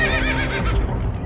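A horse neighs in a cartoon story, with a loud, close whinny that holds clear, wavering tones and then fades out.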